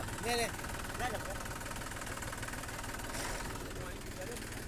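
A tractor stuck in a river runs with a steady, low idling engine throb throughout, while voices can be heard over it.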